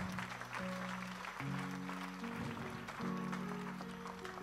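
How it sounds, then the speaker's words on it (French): A church congregation claps steadily through the whole stretch, mixed with sustained organ-like or sung musical tones. "Applaudissez un peu Jésus."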